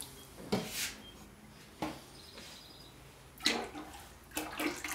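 Liquid glaze is poured into a raw pottery piece in a few short, splashy bursts separated by quiet pauses, close and fairly faint.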